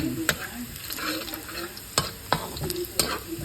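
Garlic and tomato sautéed in plenty of oil for a shrimp paste dish: a continuous sizzle with several sharp spatula clacks against the pan at irregular intervals, close and fairly loud, with no voices.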